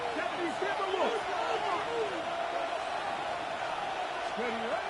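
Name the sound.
football stadium crowd cheering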